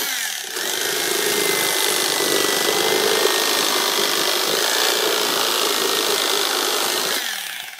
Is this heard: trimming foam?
yes